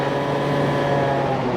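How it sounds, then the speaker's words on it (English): A modified Yamaha Zuma bugeye scooter engine runs with a steady, loud drone and constant low hum, continuously with no breaks. "it's all I want out of a built scooter"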